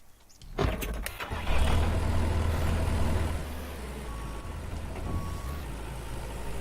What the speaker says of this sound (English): Grab the trusty old tractor here.